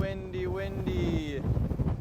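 Strong wind buffets a lavalier microphone near the Christie Mountain wildfire, a constant low rumbling roar with a faint tonal voice-like sound drifting over it early on.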